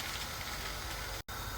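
Steady, dense sizzle of leftover-upma akki rotti frying in oil on a hot pan, close and continuous, with a brief cut near the end.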